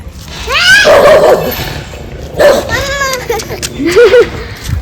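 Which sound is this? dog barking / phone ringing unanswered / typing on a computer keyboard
dog barking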